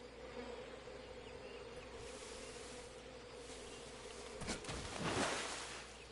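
Bees buzzing around a hive in Metal Gear Solid Delta, a low continuous drone with a louder swell toward the end, no talking over it.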